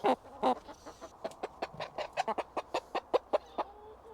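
Chickens on an allotment cluck steadily nearby in a quick, irregular run of short, clipped calls, with no talking.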